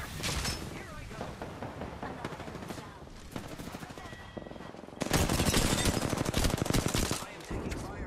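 Rapid bursts of automatic gunfire and single shots in the Apex Legends battle royale game, crackling throughout and swelling into a loud, dense volley midway, with voices talking over the firefight.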